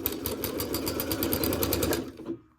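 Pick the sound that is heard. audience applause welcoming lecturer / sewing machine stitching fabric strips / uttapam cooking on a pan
sewing machine stitching fabric strips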